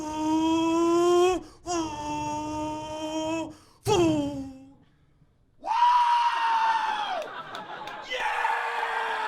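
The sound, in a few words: comedian imitating a party scream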